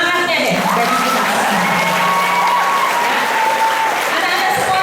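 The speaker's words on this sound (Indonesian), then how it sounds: "Ibu ingin dengar tepuk tangan semangatnya deh dari kita." An audience of children claps steadily at a school event, a continuous wash of applause with a few cheers while a voice talks over it.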